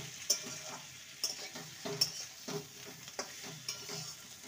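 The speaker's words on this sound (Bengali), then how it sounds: "ভালো করে মিশিয়ে নিলেই এটা রেডি।" A spatula scrapes and stirs a brinjal and potato vegetable dish in a pan in a series of close, rhythmic strokes and clinks, with a soft sizzle running underneath between the movements.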